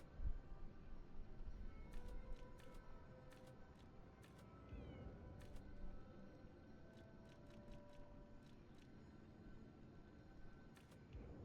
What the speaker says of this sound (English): A small kitten.